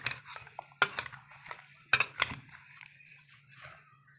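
A spoon scrapes and clinks through raw mango pieces and spices in a metal bowl for homemade pickle, close, irregular stirring with a few sharp metallic knocks against a faint steady hum.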